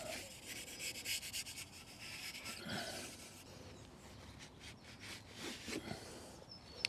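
Grade 000 steel wool is rubbed across a car seat during an interior cleaning, with a steady close scratchy swishing of repeated back-and-forth strokes and no talking.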